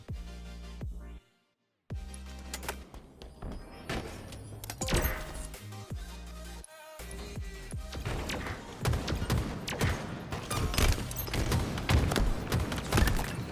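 Gunshots and impacts in a Halo Infinite Strongholds match, scattered sharp bursts and thuds with brief silent gaps, building into denser, louder fire toward the end.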